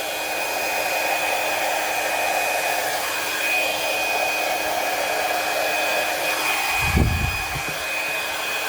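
A hair dryer fitted with a diffuser attachment blows in a steady, close, continuous whoosh with a thin high whine, then a brief low thump and rumble near the end as it shifts against something.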